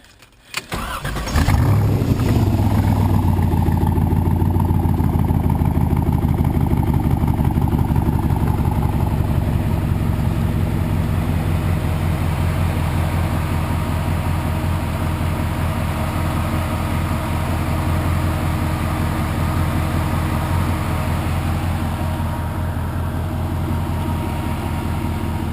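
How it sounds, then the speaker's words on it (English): A 1963 Corvette engine cranks and catches, then settles into a loud, steady low rumble that keeps running close by for the rest of the clip. "Start the engine."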